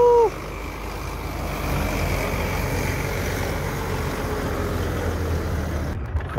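A truck engine drones and idles steadily on a snowy mountain road toward Khardung La, with a brief beeping tone at the start and a continuous low rumble throughout, no voices.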